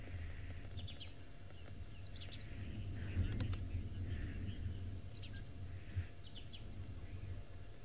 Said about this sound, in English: And birds all chirping away.